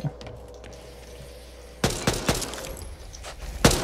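Gunfire in the video game Back 4 Blood, a few sharp, loud shots in quick succession after a quiet stretch, followed by another burst near the end.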